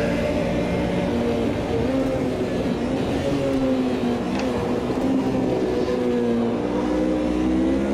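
A car engine in the Automobilista 2 racing game drones loudly and continuously, its pitch wavering up and down as the driver revs and shifts, with no break in the sound.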